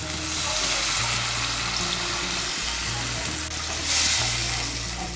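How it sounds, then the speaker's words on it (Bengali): Hot water poured into frying spice paste for Boal fish curry, a loud steady sizzle and bubbling hiss that swells briefly near the end, with low background hum. "আমি এর মধ্যে 1 কাপ গরম জল দিচ্ছি।"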